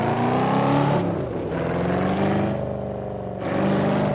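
A car engine revs loudly and steadily, pitch rising and falling through a couple of throttle swells, with no turbo whistle or talking.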